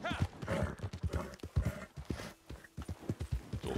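Steady clip-clop of horse hooves in Red Dead Redemption 2 online, a nervous horse walking in an even quiet rhythm under soft background sounds.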